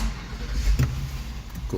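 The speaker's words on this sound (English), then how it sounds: "let me start the car" An Acura MDX engine starts up in a closed setting, with a brief cranking burst and then a steady low idle rumble. Faint murmuring may sit underneath.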